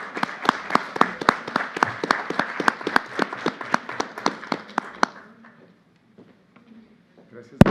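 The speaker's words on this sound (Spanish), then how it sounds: "Un aplauso, por favor." Audience applause at a criminal justice seminar in Mexico City: a quick, even rhythm of sharp claps that stops abruptly after about five seconds, followed by faint room noise and one last thud.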